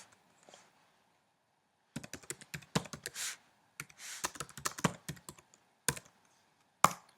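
Someone types on a computer keyboard, entering a playlist name in display software: quiet, close key clicks in irregular bursts separated by short pauses, with no talking.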